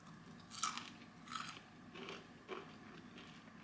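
Crunchy fried onion is bitten and chewed close up, giving about four distinct crisp crunches at roughly even intervals over a quiet background.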